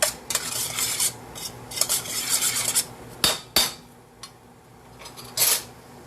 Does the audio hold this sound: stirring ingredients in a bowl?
yes